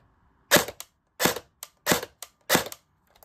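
Sharp snapping shots from an FN SCAR-L airsoft rifle firing full auto at about 20 rounds per second in five quick bursts, each a rapid cluster of pops, with brief silences in between.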